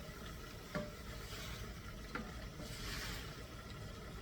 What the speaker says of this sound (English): We are going to deglaze and get all this flavor. 2/3 of a cup of sweet wine. The liquid will deglaze it right away